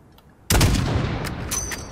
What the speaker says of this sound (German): Bam. Schuss.